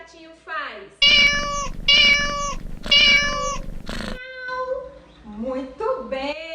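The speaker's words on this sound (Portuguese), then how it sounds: "Qual é o som que o gatinho faz?" A cat meows repeatedly in a series of loud, drawn-out, close calls, followed by softer, shorter mews with rising and falling pitch.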